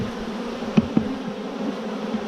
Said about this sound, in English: we are going to knock some frames of bees into here